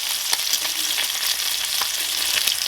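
Good-quality bacon frying in a pan at breakfast, a loud, close, dense sizzle with steady crackling pops throughout.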